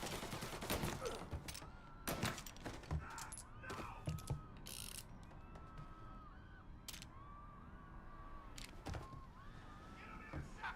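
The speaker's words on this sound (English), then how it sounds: "Gonna reload!" A gun being reloaded in the video game Mafia: Definitive Edition, with close mechanical clicks and ratcheting metal clacks mixed among sharp bursts of gunfire across a busy firefight.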